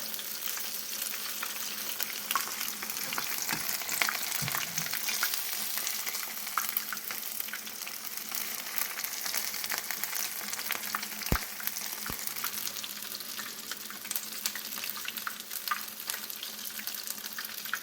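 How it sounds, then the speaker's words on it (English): Coconut shrimp bubble and crackle in very hot oil, a steady dense sizzle running throughout with occasional sharper pops and light utensil taps, close up and without talking. "Just flip again. Just be careful, the oil is so hot."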